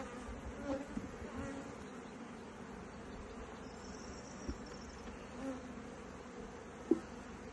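Honeybees drone around an opened beehive as a new story is added. The buzzing is faint and steady, with a few louder passes close by.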